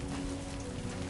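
Steady rain patters densely and evenly in a video game, a constant wash of sound with a faint low hum beneath and no voices.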